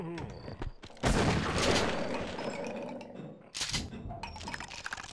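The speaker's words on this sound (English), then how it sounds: "Someone's shooting me." Gunfire in the horror shooter game They Hunger: a dense, loud burst of rapid shots that rolls on for a couple of seconds, fades, then a second burst erupts near the end.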